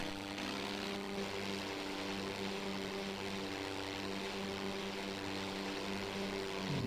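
A WWI fighter plane's engine drones steadily through a dive in the flight game IL-2 1946, a continuous, loud propeller roar with a constant low harmonic hum and no voices.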